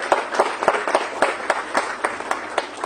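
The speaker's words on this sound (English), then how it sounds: "Let's have a huge round of applause for him" A conference audience gives sparse, rhythmic clapping for an expert speaker, distinct individual claps in a steady beat at moderate loudness with no talk over it.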